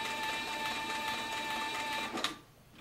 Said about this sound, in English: Concentrate on sewing right in the groove.